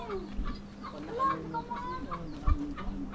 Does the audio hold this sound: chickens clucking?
yes